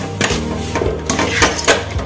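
Paneer being mixed in a metal pan, with a few sharp clanks and scrapes of a utensil against the pan over about two seconds, close and fairly loud.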